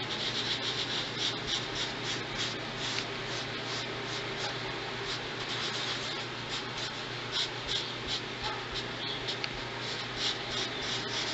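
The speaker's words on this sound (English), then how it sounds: "you just kind of smear these ashes, these bits of color ash," Colour pastel ash being smeared around and around on paper with a fingertip makes a steady, close, soft rubbing and scratching that continues without pause and with no voice.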